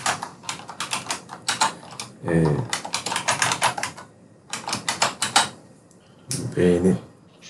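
Rapid keystrokes on a computer keyboard during software setup, clicking in dense bursts with brief pauses, close and fairly loud, interrupted twice by short spoken phrases.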